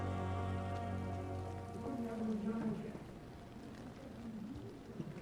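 Steady rain pours in the Vampyr video game, a dense even hiss that runs the whole way under a low droning music bed with no one talking.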